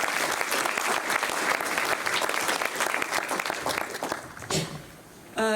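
A school awards ceremony audience claps in a full, sustained round that thins and fades toward the end, leaving a brief lull before a final burst of sound.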